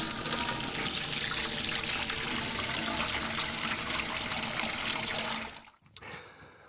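Water runs steadily into a glass for about five seconds as a continuous, close, rushing splash, then cuts off abruptly, leaving a quiet room with a small clink.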